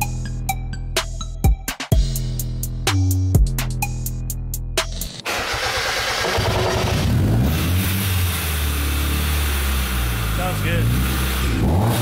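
A Mazda Miata with a swapped 1.8-liter engine and a supercharger runs steadily after the first few seconds. Its rough, continuous engine note is loud and close. Sharp tonal beeps and clatter come before it starts.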